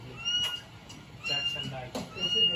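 A pet cat meows in a home, several short cries in a row, moderately close, with household sounds around them.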